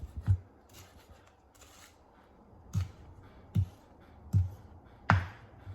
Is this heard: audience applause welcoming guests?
no